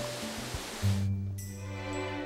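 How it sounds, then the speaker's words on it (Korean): A waterfall in Seogwipo drops about 20 metres into a large pool that drains to the sea, giving a steady, broad, soft rush of falling water with no voices, fairly faint and unchanging throughout. "높이에서 힘차게 떨어지는 폭포 줄기는 아래로 거대한 못을 이루면서 바다로"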